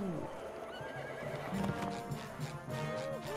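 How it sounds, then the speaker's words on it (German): A seahorse ridden in the SpongeBob Cosmic Shake video game neighs and whinnies over galloping clip-clop hoofbeats, a steady cartoonish horse sound running throughout. "Wir reiten auf dem majestätischen Seepferd."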